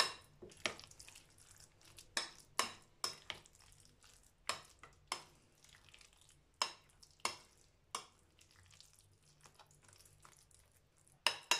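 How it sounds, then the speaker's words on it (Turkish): A spoon stirs celery salad dressed with olive oil in a bowl, giving quiet, irregular clinks and scrapes against the dish, a dozen or so sharp taps spaced over a soft background. "2 kaşık da zeytinyağı arkadaşlar. Bunu da karıştırıyorum."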